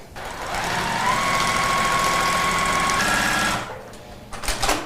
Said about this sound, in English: Laurel, this is your very first time machine quilting using the little Cutie Tabletop Fabric frame